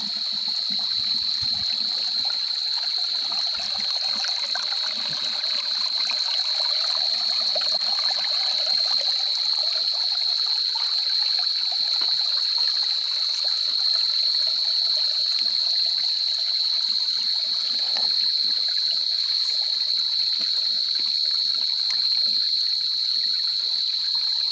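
A small hillside stream flows in a steady, continuous trickle and rush, close and even for the whole stretch, with no voices over it.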